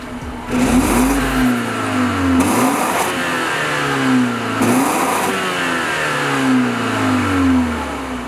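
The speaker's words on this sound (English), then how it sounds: "And let's get a quick note of the exhaust for this vehicle." A 2021 BMW X2 Mesh Edition's exhaust rises and falls through three or four sharp revs from idle, each climbing in pitch and then dropping back, loud and close with no talking.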